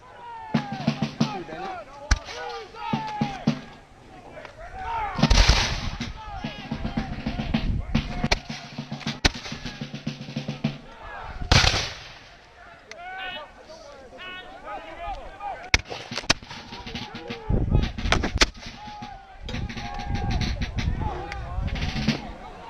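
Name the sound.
gunfire at a Fort Ticonderoga battle reenactment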